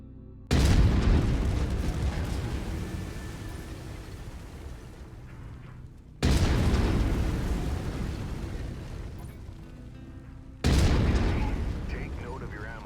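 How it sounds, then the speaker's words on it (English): Heavy autocannon shots boom in the MechWarrior 5 game, three loud separate blasts spaced a few seconds apart, each trailing off in a long rumbling decay. "I've mapped the autocannon to Weapon Group 1. You're free to fire whenever you're ready."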